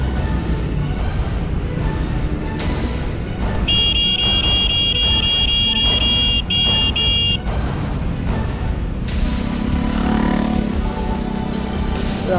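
A car horn blares in one long blast, then a short second honk, over steady road and engine noise, heard while cycling in Angeles City, Philippines.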